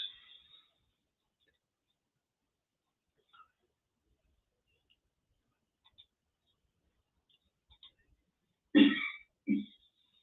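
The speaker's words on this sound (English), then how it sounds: "the director sitting in the corner coughing her lungs out." A woman clears her throat and coughs twice in quick succession near the end of a near-silent stretch, the bursts close and fairly loud after faint scattered rustles.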